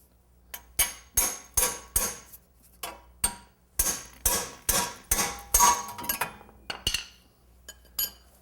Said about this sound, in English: and just hit it with a hammer.